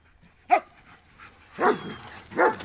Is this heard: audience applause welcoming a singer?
no